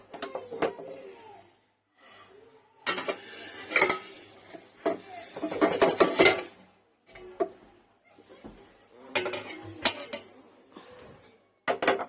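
Fried dal for khichuri clatters from a hot kadai into a pot of heated water, with intermittent scraping, clinks of a metal spoon and pot, and quiet gaps between bursts.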